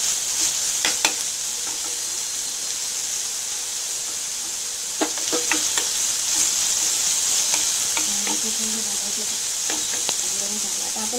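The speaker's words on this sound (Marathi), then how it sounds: "चांगलं परतू द्यायचं." Food sautéing in a pan for paneer cutlets gives a steady, even sizzle and hiss throughout, with a few brief stirring clatters and scrapes near the pan. No one speaks.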